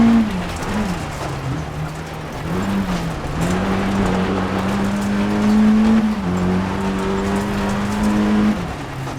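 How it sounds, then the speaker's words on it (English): A rally car in a racing video game, its engine droning steadily then dropping pitch in stepped downshifts as it brakes into a left turn, close and loud with a faint tire hiss. "In order to enter the left turn without any problem, I once again use a speed reduction by lowering the gears."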